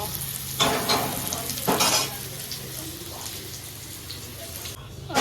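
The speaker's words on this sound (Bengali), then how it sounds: "আমি কড়ার মধ্যে মাংসটা দিয়ে দিয়েছি। এবার মাংসটা কষবো।" Meat sizzles and is stirred in a hot wok seasoned with dried red chilli and cumin, with steady frying hiss and a few louder scraping stirs close by.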